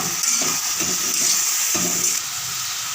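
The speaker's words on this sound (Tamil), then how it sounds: "இப்போ வந்து நம்ம நல்லா கலக்கி விட்டுக்கும்" Brinjal sautéing with rock salt in a pan gives a steady, close sizzle, with several soft scraping stirs breaking through the hiss.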